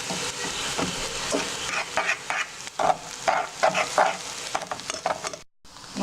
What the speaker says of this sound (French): Et vous mélangez bien jusqu'à ce que vraiment vous voyez les petits morceaux d'œufs comme une omelette.